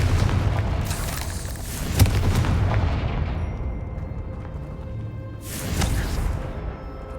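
Fiery spell explosions in the Hogwarts Legacy video game, loud booming blasts with rumbling tails, one around the start, another near two seconds and a rushing burst toward the end, with no talk.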